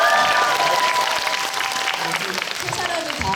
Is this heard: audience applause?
yes